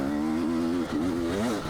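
A 2022 KTM 300 XC-W fuel-injected two-stroke dirt bike engine revs up and down, a close, buzzy wavering pitch that dips briefly and climbs again.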